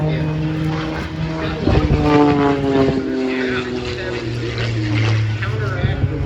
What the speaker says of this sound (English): So Brittany will do a hammerhead here. She'll do an outside snap